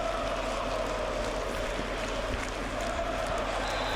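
Football crowd at the Betzenberg stadium in Kaiserslautern, a steady, dense roar of many voices filling the open stands with a constant murmur and scattered shouts.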